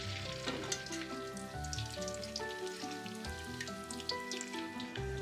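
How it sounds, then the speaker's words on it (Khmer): Spring rolls frying in oil over moderate heat, turned until they brown and crisp; a steady, close sizzle with faint crackles runs throughout, under a layer of background music with no voices. "ការចៀនហ្នឹងគឺយើងបើកភ្លើងល្មមបានហើយចៀនត្រឡប់នំហ្នឹងទៅមករហូតដល់តែនំហ្នឹងឡើងក្រហម"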